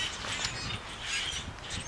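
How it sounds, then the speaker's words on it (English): Blackbirds calling from a tree, a busy mix of harsh, raspy chatter and squawks from several birds, fairly loud and continuous with no talking. "watching the non elusive blackbird. It ain't trying to hide. Blackbird is blatant in everything it does."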